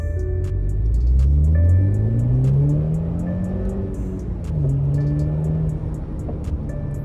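A 2018 BMW 330e hybrid sedan, rebuilt after a wreck, accelerates hard from close by, its engine note climbing in pitch through several gear changes and easing off between pulls.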